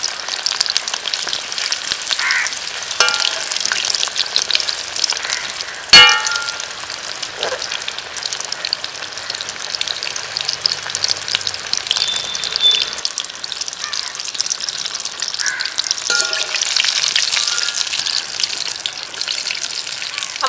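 KFC-style chicken pieces, seasoned with kanthari chili, deep frying in hot oil, giving a steady, loud, close bubbling sizzle throughout, broken by one sharp clatter partway through.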